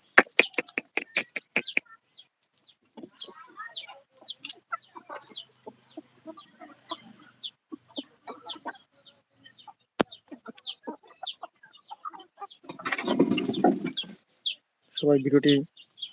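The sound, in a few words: chickens clucking on a farm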